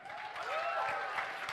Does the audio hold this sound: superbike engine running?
no